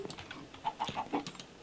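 A few short, clipped chicken clucks from the Minecraft video game come in quick succession at moderate volume, with no talking.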